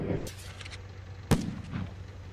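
Artillery shells from a video game land on Big Ridge, a couple of muffled booms with one sharp, loud crack near the middle, over steady low battlefield rumble.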